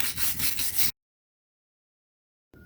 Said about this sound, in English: we'll go ahead and use the wire brush and just kind of clean up